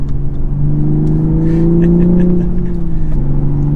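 A 2023 Toyota GR Supra sports car engine with manual transmission hums steadily at a low, smooth drone, rising slightly in pitch mid-way before settling, close and loud.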